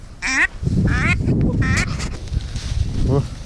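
Ducks quack repeatedly in short, bright bursts during a spring duck hunt in Yakutia, close and fairly loud over a low rumbling background.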